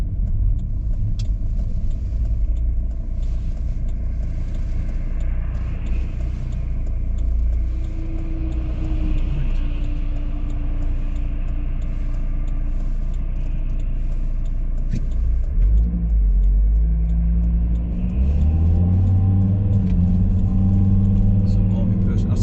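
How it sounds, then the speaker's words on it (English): Big trucks pass along the A66 main road, a steady loud rumble of heavy engines and tyres heard from inside a moving car, swelling as a vehicle goes by. "There's big trucks coming along now."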